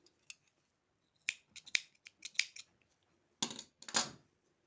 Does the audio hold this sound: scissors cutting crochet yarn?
yes